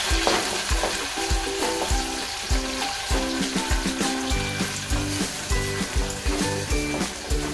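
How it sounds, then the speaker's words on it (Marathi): Tomatoes frying with browned onions for chicken masala, a continuous sizzle broken by a rhythmic series of regular scraping, tapping spoon strokes against the pan, with background music running underneath. "टोमॅटो पण मस्त आपण फ्राय करून घेणार आहोत"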